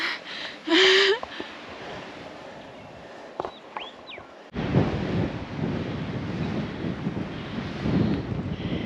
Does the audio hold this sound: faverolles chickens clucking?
no